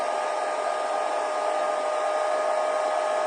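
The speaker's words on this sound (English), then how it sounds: "see, dodgy hairdryer." A faulty hair dryer blows steadily and fairly loud, a constant airy whoosh with a high whine running through it, no voices.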